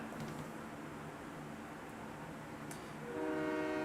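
A train bears down on the tracks in the horror game Silent Hill 3, a steady low rumble that swells near the end as a loud horn blast cuts in.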